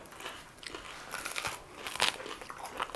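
Crisp bites and chewing of a crunchy pretzel with pepperoni and cheese, several close crackly crunches in an uneven rhythm, fairly quiet with no talk.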